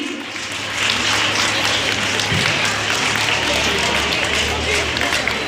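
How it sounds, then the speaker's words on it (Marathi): Crowd applause for the winner of a Misal Queen 2024 cooking contest in Nashik, a dense steady wash of clapping that swells in after a brief lead-in and holds loud and even to the end. "जोरदार टाळ्या."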